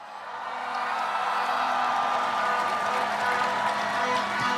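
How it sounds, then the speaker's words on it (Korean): Crowd cheering and applauding at a Lee Jae-myung presidential campaign rally in Yongsan, Seoul, as he is welcomed onstage, a broad steady roar of voices and clapping that swells in and holds throughout. "이재명 후보에게 함성과 박수로, 네, 맞아 주시기 바랍니다"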